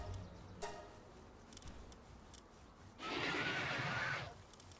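A horse in the video game Palworld gives a loud, drawn-out whinny lasting about a second near the end, following quieter game sounds and light clicks.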